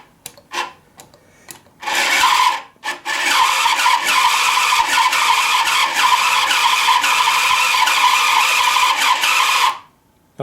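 Motors of a vintage Structo toy cargo crane running close and loud, a steady buzzing, rasping whir lasting about eight seconds after a few short clicks, then cutting off.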